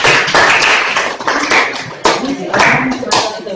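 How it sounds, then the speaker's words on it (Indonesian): Students in an eighth-grade Indonesian language classroom clap for a presenting group in loud, uneven bursts of hand claps with some voices mixed in. "Tepuk tangan dulu untuk kelompok keempat."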